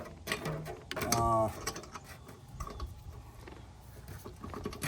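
A wrench spins lug nuts off the front wheel of a 2011 Nissan Rogue, a quick burst of ratcheting metallic clicks lasting about half a second. Scattered clanks and shop noise come before and after it.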